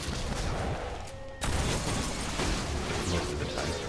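A Destiny 2 Austringer hand cannon fires amid game combat: heavy gunshots with booming impacts and ongoing battle noise, one sharp louder report near the middle, dense and close throughout.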